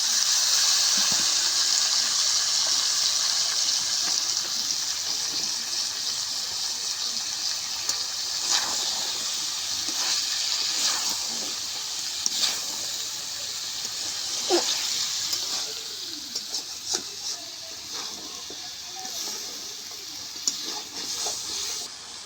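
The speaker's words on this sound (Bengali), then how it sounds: "বন্ধুরা, কষানোর জন্য পানি দিয়ে দিলাম।" Water poured into a cooking pot of curry with jackfruit seeds, potato and pointed gourd being braised, a steady hissing gush with faint clinks, heard close and alone without talk.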